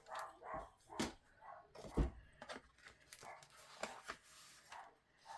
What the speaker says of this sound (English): My boys are having a play date today with a puppy.